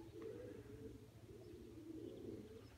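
An old black female pigeon sitting on her young chicks gives soft, low continuous cooing, faint and murmuring throughout with no speech.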